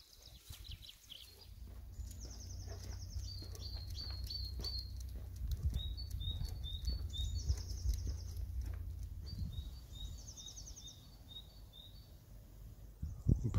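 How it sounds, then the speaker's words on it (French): Birds sing near Lac du Salagou by the village of Liausson, repeating bright, high chirping trills in short bursts over a soft, low outdoor rumble. The calls are moderately distant and there is no talking. "Je sais pas si vous entendez tous ces oiseaux qu'on entend là-bas."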